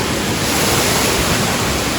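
Steady, loud rushing of water pouring out at a water park, a broad continuous splash close by with no breaks.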